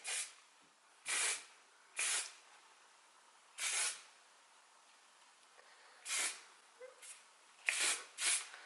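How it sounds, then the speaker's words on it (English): Hairspray from an aerosol can misted over freshly wand-curled hair in short bursts, about eight quick hissing sprays spaced irregularly, close and fairly loud against a quiet room. "So just hairspraying them into place like the hair is actually flowing like away from my face."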